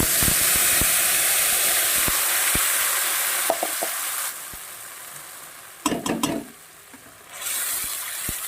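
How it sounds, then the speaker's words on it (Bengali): Ground spice paste hitting very hot oil with cumin seeds, a loud steady sizzle and hiss with scraping stir strokes and clanks, no voices. "তেলটা অনেক গরম হয়ে গেছিল তাই তাড়াতাড়ি ফোড়নটা ভাজা হয়ে গেছে এই পর্যায়ে আমি দিয়ে দেব পিষে রাখা মশলা"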